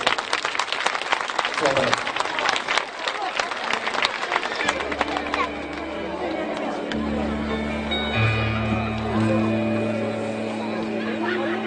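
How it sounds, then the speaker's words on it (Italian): Crowd applause in a town square during a live outdoor concert, a lively burst of clapping with crowd noise that fades after several seconds as sustained music tones and held keyboard notes take over. "Per sentire un applauso per vedere quanti ce ne sono."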